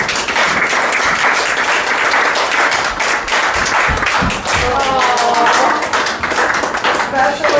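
Lively clapping from family members at a homecoming surprise, dense and continuous, with chatter and excited voices mixing in over it.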